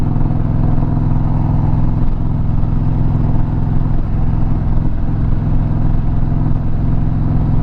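A 2021 Indian Chieftain Limited motorcycle under way on its first ride, a loud, steady low engine drone with rumbling road and wind noise, continuous and close without any voices.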